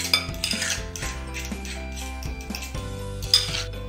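Guacamole being mixed in a bowl after pepper and salt go in, giving a run of close metallic clinks and scrapes of a utensil against the bowl, repeating at a fairly regular pace with no talking.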